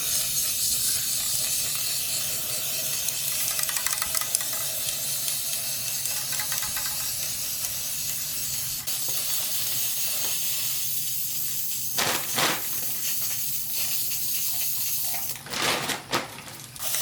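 Spray paint hisses from a can in long, steady bursts close by, with brief pauses and a few short sharper spurts toward the end.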